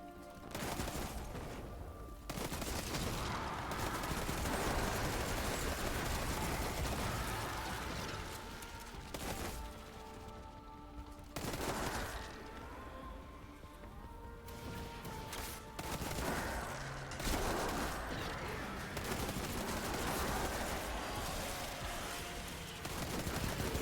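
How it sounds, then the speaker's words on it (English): Sustained rapid gunfire at a shooting range in Destiny 2, loud and dense, with continuous bursts that break off briefly around the middle and then resume. "this does look like a shooting range to me"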